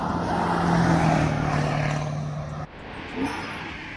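A rusty two-tone 7.3 pickup truck pulls up outdoors with a steady engine drone that swells, then cuts off abruptly, leaving quieter ambient noise and a brief bump.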